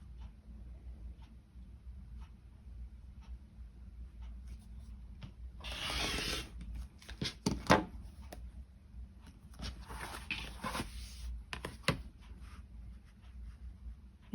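Pieces being trimmed and squared up to straight, parallel sides: faint, close scratchy rubbing and scraping strokes come in short bursts over a quiet background.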